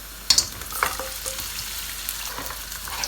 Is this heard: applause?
no